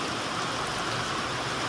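Rain falls heavily and steadily as a dense, even wash of noise with no talking.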